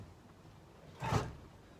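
A Ford Fox Body car door being pulled back on its hinges gives one brief scraping creak, close and moderately loud in an otherwise quiet space.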